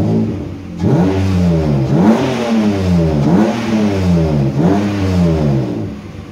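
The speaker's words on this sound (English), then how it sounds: "So I got the car running now" A BMW E30 car engine with an M52 engine swap revs repeatedly, rising and falling in a steady rhythm of about five surges, loud and close with no talking.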